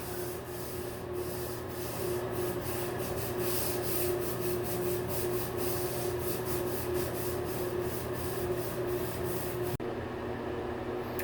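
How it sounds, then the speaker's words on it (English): A bristle brush scrubs freshly laid tile grout in a steady back-and-forth rhythm of soft, close, quiet rasping strokes. It continues with no talk until a brief break at the end. "I hit it with the bristle brush like 3 times in there"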